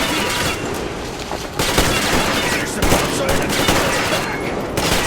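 Gunfire in the video game Metro Exodus while the player shoots at animals: loud, continuous bursts of automatic fire crackle and boom without letup, with an occasional short break between volleys.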